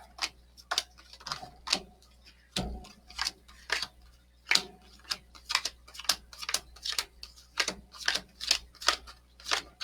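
Tarot cards are shuffled in quick, crisp bursts of riffling and tapping that repeat in an uneven rhythm, close and fairly quiet against a faint low hum.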